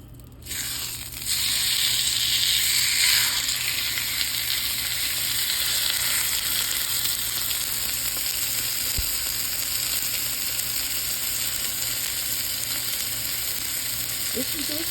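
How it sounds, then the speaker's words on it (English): A ribeye steak drops into a smoking-hot pan and erupts into a loud searing sizzle that quickly settles into a steady, close crackling hiss for the rest of the clip. "Good time to put my meat in. Alright, here we go. Here is the sear."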